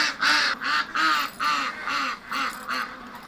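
Several upset ducks quack loudly and harshly in a steady run of about seven calls, close by and with no talk over them.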